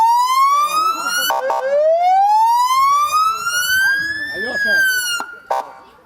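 A police car siren wails loud and near during a school safety lesson run by police, its pitch sliding up and down in a long continuous sweep with brief clattering knocks partway through.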